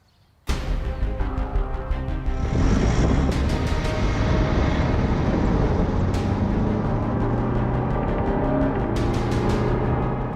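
An Alfa Romeo Giulia Veloce fitted with custom run-flat tyres drives at about 135 km/h on a test track, a loud steady engine and road roar that starts abruptly and holds a constant drone throughout.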